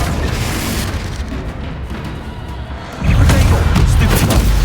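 A Confringo fire spell bursts in the Hogwarts Legacy video game, a loud booming blast that jumps up sharply midway and rolls on as a dense, roaring rumble amid continuous battle noise.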